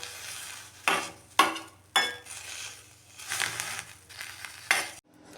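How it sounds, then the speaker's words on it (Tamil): Crushed, wilted herbs are squeezed by hand to press out their juice for a cold and cough remedy, giving close, separate wet squishing and crunching bursts with short pauses between them. "மூலிகை சாறு பிழிஞ்சு எடுத்தாச்சு"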